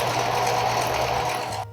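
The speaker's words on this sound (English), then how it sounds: "We're gonna take it over to our sewing machine, and we're just gonna bring the 2 ends together and sew back and forth a few times." A sewing machine stitches the two ends of a piece of stretch fabric together back and forth, a close, steady mechanical whir with a constant hum that cuts off abruptly at the end.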